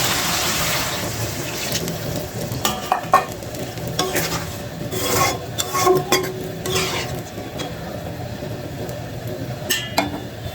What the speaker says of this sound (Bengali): এখন একটু হালকা কষিয়ে নিব